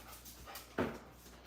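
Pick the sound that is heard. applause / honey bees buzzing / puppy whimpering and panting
puppy whimpering and panting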